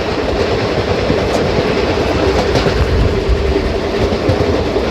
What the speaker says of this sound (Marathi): कोयना एक्सप्रेसला लीड करतोय भुसावळ लोको शेडचा WAP4 लोकोमोटिव्ह. आणि क्रॉसिंग होतोय आता.